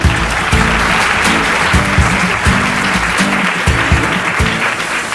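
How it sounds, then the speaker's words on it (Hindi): A studio audience on a quiz show breaks into loud, sustained applause, dense clapping filling the whole stretch with rhythmic accents, likely alongside background music, and no talking. "जोरदार तालियां हो जाए उनके लिए"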